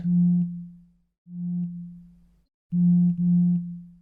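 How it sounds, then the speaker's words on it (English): A phone rings with a low electronic tone in repeated pulses, one long buzz, a pause, another, then two quick back-to-back bursts. "And that's when my phone rang."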